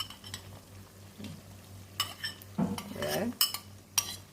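Saltfish sautéing in a pot, with scattered scrapes and clinks of a utensil stirring against the metal over a low hum, and a brief voice in between.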